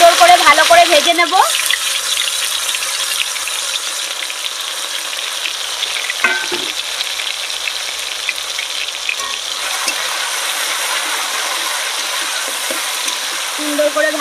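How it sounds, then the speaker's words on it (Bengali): Chopped tomatoes sizzle and spit steadily in hot oil in a home kitchen pan, a loud continuous fry with occasional stirring scrapes, running alone with no talk over it. "টমেটোটা এবার সুন্দর করে ভালো করে ভেজে নেব"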